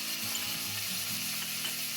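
Vegetable noodles dressed with soy and oyster sauce sizzle and fry steadily in a hot pan while being tossed and stirred, with a continuous crackling hiss and low clattering underneath, no voices.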